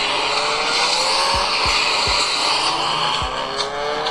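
Racing-game car engine drones steadily from a Blackview Tab 9 Android tablet, with several short tire squeals and skids spaced through the run, loud and close with no talking.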